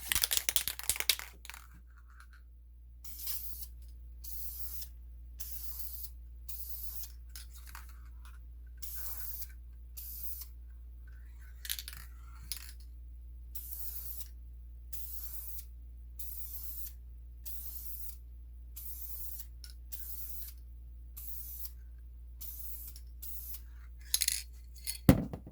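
A second coat of spray paint goes onto ATV nerf bars for a Raptor 700 in repeated short hissing bursts, each one to two seconds long with brief pauses between them, fairly close and steady over a low background hum.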